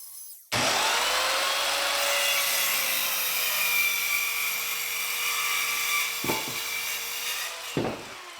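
A power saw ripping a wooden board for workshop shelves: a loud, steady whining cut starts abruptly and runs for several seconds, with a couple of short dips near the end.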